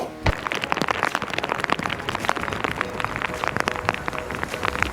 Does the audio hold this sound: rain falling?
yes